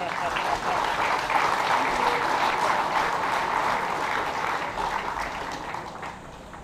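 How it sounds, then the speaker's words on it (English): Sustained applause from a large audience at a US and Philippine Army exercise closing ceremony, loud and continuous, slowly easing toward the end, with some voices faintly mixed in underneath. "A round of applause, please."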